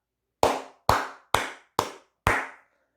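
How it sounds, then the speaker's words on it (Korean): A single person claps hands five times in a slow, even rhythm, each clap sharp and close with a short ringing decay, alone against silence. "박수 한번 크게 치고 가도록 하겠습니다"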